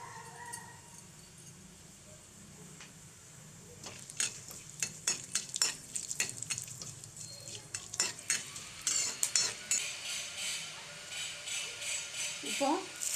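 Vegetable kothu parotta ingredients frying in a pan, with a steady sizzle broken by repeated sharp metal scrapes and clinks of stirring that grow busier toward the end, all heard close and with no talking.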